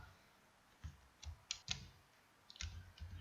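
Computer mouse clicks sound during accounting software use, a few sparse, crisp, faint clicks spaced irregularly across a quiet room.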